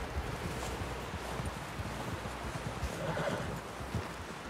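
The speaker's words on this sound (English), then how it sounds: "Someone help John down off this horse." A horse whinnies faintly over a constant windy rumble, with a few soft hoof clops, in an outdoor scene from the video game Red Dead Redemption 2.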